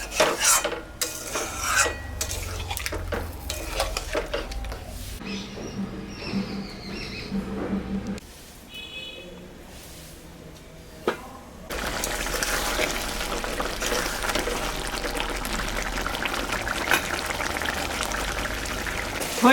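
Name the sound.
adding poppy seed paste and water to chicken posto while cooking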